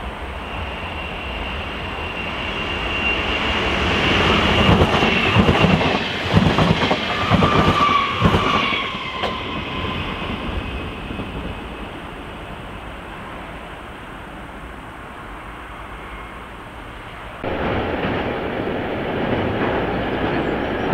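A regional express train passing steadily with a long rumbling roar and rhythmic clatter of wheels, squealing faintly, then a sudden shift as the last cars go by.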